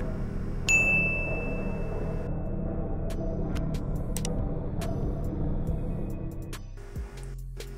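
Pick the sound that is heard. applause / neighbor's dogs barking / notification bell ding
notification bell ding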